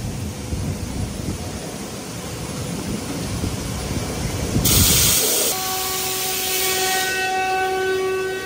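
A zinc spray unit hisses on a high-frequency ERW tube mill line making 170 by 170 mm square tubes with 3.5 mm walls, a broadband spray burst rising over steady machinery rumble and whine.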